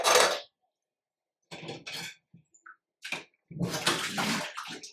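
Water from a pot of mutton biryani is poured off into a bowl in a kitchen, coming in several short splashing bursts with quiet gaps and a faint clink of cookware between them.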